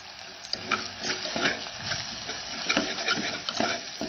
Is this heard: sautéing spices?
yes